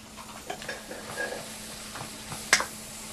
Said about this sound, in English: Going to saute that up just for a minute.